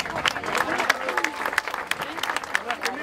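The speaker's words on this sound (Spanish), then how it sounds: "un aplauso bien grande para ella" Scattered applause for the Reina del Emigrante at the Maratón del Inmigrante 2012 awards, individual claps popping out distinctly and unevenly at a moderate distance while a voice carries on over the outdoor crowd.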